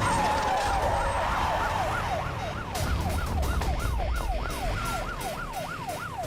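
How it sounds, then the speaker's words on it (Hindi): A police siren wails in a fast, regular up-and-down cycle, starting as a steady tone and then sweeping rapidly, fairly prominent over a low rumble of traffic. "ये तो पुलिस का सायरन है।"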